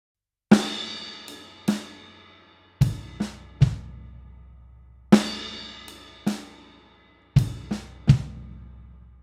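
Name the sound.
drum kit lick on ride cymbal, snare and bass drum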